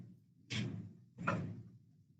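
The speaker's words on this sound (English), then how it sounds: "Unlock the door." A door being unlocked and opened after a regional trails board meeting, two quiet clunks about a second apart in a still room.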